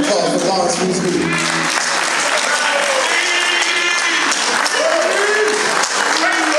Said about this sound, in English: How about a hand of round of applause for Lawrence Weeds Newton?